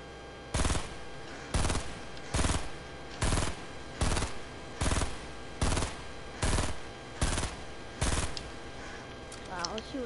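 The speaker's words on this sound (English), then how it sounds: "Shooting at nothing." Video game gunfire rings out in about ten evenly spaced, loud automatic bursts, each lasting roughly half a second, with short silent gaps between them.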